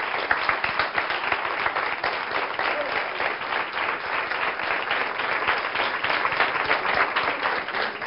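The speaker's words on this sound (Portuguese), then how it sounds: "que merecem também ser aplaudidas" Sustained, dense applause from a studio audience on a Portuguese television programme, steady and loud throughout with no pauses, many hands clapping together close up.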